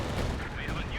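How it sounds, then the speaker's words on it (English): Airstrike explosions in Company of Heroes 2 on a bridge map: booming blasts mixed with rattling gunfire form a thick, loud battle roar, with a faint voice underneath. "Nice airstrike."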